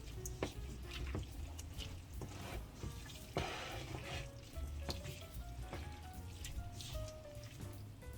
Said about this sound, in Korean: 물을 반 컵을 부어 그래야만 물이 잘박하게 이게 돼야만 이게 맛있게 볶여지니까 그래서 큰 불에다가 얼른 볶아